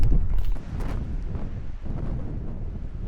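Strong wind buffets the microphone with a loud, low rumbling roar that gusts and eases unevenly throughout.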